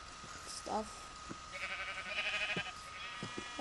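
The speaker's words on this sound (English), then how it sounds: "Hello, sheep." Sheep in the video game Minecraft give several short bleats at irregular intervals, moderately close, with a person talking over the game sounds.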